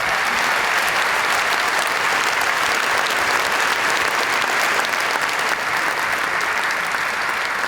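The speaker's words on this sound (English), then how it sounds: "Let's give him one final round of applause." Sustained audience applause at a refugee award ceremony in Geneva, a thick even roar of many hands clapping that holds steady throughout.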